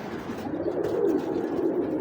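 Pigeons cooing in a low, continuous murmur close by, several birds overlapping in a steady soft drone with no talking.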